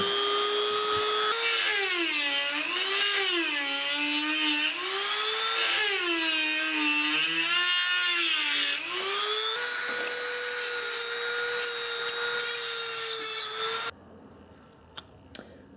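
A two-speed Dremel 200 rotary tool runs at a steady high-pitched whine while cutting, rising and dipping in pitch as it bites into the workpiece, loud and close for about fourteen seconds before stopping abruptly, with no speech.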